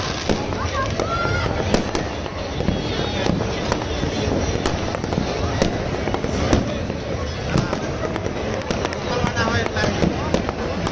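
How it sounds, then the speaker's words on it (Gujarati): Fireworks and firecrackers burst nonstop in Ahmedabad the night after Uttarayan, a dense barrage of sharp cracks and booms near and far, with people talking and shouting throughout. "ભાઈ કોઈ લિમિટ જ નહીં ફટાકડાની"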